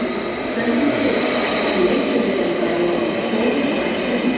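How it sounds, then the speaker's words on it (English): Steady rumble of an intercity train at a German station, a constant broadband roar with faint rattling, close and continuous, no clear talking. "This is the intercity train to Berlin Airport."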